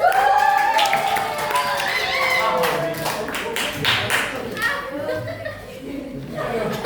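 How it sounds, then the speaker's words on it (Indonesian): A classroom of students claps together, scattered hand claps rising and fading while voices and children's chatter run over them and a teacher's voice carries through. "Tepuk tangan untuk kalian semua"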